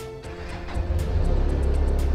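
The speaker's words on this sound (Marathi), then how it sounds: "बेनेली आता ऑन केली आहे, तर तुम्हाला थ्रॉटल ऐकवतो पटकन दिशी" A Benelli motorcycle engine runs close by, its low rumble rising sharply as the throttle opens and then holding at a steady, pulsing roar without any talking.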